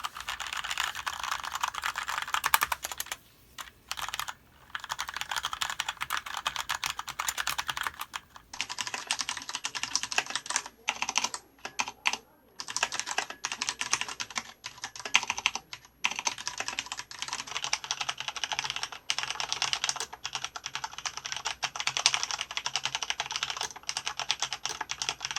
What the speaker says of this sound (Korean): 갈축의 타건음 들려드리도록 할게요